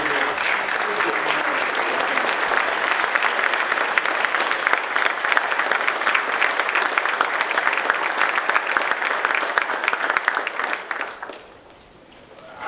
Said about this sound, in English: give the parents and family that's in this room a round of applause